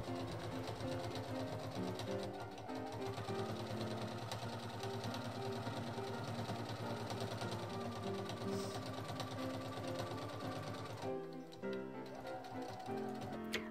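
Sewing machine quilting straight lines across a quilt, a fast steady mechanical whir and needle chatter running almost nonstop, briefly easing and changing pitch near the end, fairly quiet and close with no talking.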